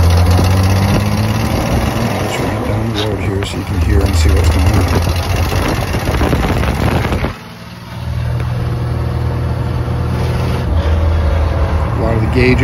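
A 1931 Chevrolet Independence five-window coupe drives down the road with a steady, close engine drone that shifts pitch as it moves, briefly dropping away midway before the running engine returns.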